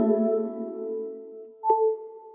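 A futuristic wireless-charging chime from iOS 11: a sustained, layered synthetic tone that fades, then a sharp higher ping rings out and lingers alone, with no voices.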